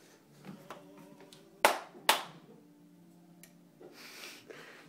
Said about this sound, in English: Let's clap again.